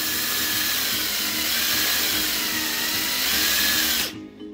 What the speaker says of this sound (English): I'm sorry for the extremely loud drill.